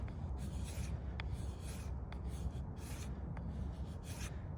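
A knife blade with a DC53 steel fixed blade shaves thin curls from durable leather, giving a steady dry rasping scrape that runs continuously at close range in short repeated strokes.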